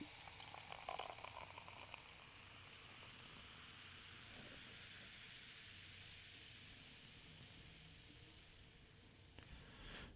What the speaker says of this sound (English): I'm just going to pour it into a glass